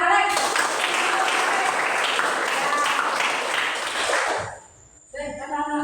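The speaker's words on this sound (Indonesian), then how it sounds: "tepuk tangan buat Alex" A classroom of pupils claps for a classmate named Alex in dense, steady applause that fades out near the end before a voice starts talking.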